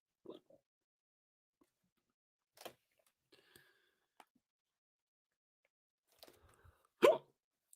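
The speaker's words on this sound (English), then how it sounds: "I can't believe I have hiccups on a live stream." A person hiccuping during a live football watch-along, a few sharp isolated hiccups spaced seconds apart amid near silence, the last one the loudest.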